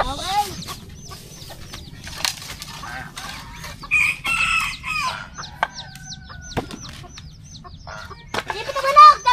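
Chickens and a rooster in a yard, with clucking and crowing calls overlapping throughout, fairly near, while people talk at times in the background.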